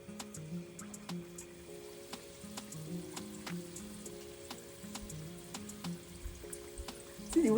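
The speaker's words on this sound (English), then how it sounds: "we'll now fry our puff puff" Puff puff dough balls fry in hot oil with a steady crackling sizzle and scattered popping bubbles, close and fairly quiet, as soft background music plays beneath.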